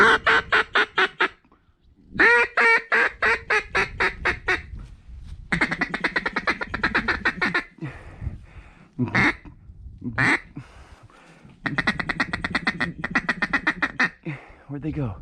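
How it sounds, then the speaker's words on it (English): Teal ducks in a flooded cornfield quacking in rapid, loud bursts of repeated calls, close by, with short pauses and a few scattered single notes between volleys. "There's some teal."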